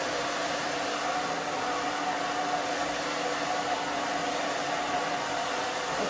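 A hair dryer blows a steady, loud, airy roar while long brunette hair with blonde highlights is dried, continuous and close without any talking.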